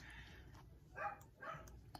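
Dogs barking near a deck outdoors, two short faint bursts of barking about half a second apart, distant and quiet against a low background hum.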